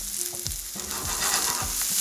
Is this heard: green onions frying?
yes